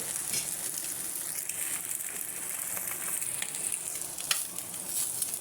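Eggs fry in a pan with a constant bright hiss of sizzling oil and a few faint scrapes of stirring, steady and close throughout, with no voices.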